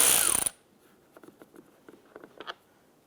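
A ratchet with a 10mm socket turning a bolt on a license plate bracket of a 2012-2017 Toyota Camry gives a series of faint, close clicks in short irregular runs, following a brief loud hiss at the start.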